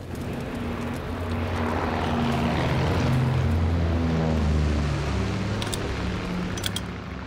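An enemy recon aircraft drones overhead in the Call of Duty WWII video game, a steady propeller engine hum that swells and fades, with a few sharp game clicks near the end.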